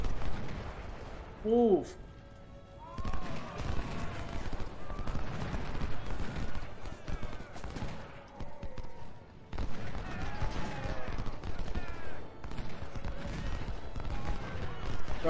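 Cannon shell shot and massed musket gunfire in Ultimate General: Civil War, a steady rumble of distant volleys and booming artillery rolling on throughout, with someone speaking briefly over the battle.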